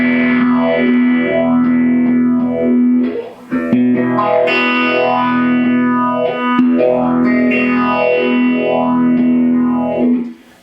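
A guitar runs through a Mobius effects pedal with added grit, its distorted sustained note sweeping in slow, repeating modulation waves, loud and continuous with a brief drop around four seconds.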